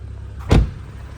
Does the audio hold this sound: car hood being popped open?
yes